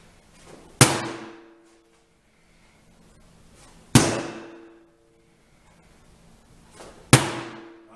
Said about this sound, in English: Sledgehammer hits on the tire.